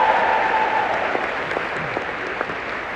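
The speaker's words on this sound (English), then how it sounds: "Give Ali a round of applause, everyone." Audience applause rings out steadily across a room, a dense even patter of many hands with a few sharper claps poking through, and nobody talks over it.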